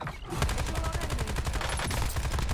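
Rapid automatic gunfire in the battle royale shooter Warzone, a loud steady stream of close shots at a fast even rhythm, continuing almost without pause after a brief opening gap.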